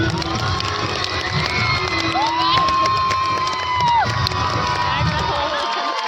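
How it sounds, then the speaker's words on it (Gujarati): A crowd at a school annual-day honour ceremony cheers and shouts, children's voices prominent, with a sustained whooping tone rising mid-way, loud and continuous throughout before cutting off near the end. "આપણે સૌ આ ક્ષણને તાળીઓના ગડગડાટથી વધાવી લઈએ"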